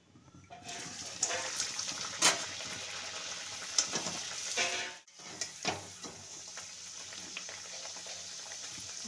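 Food fries in very hot oil, a continuous bright sizzle with crackles and pops up close, briefly interrupted partway through, then the steady frying resumes, with no voices.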